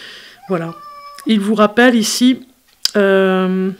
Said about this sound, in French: c'est mon chat si vous entendez du bruit